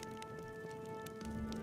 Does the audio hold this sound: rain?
yes